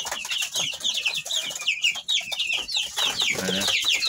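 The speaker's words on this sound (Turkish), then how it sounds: "Karışık civcivlerimiz böyle." Mixed chicks and chickens cluck and peep close by in a backyard hobby garden, a steady busy chorus of high chirps with lower clucks, continuous throughout with no talk.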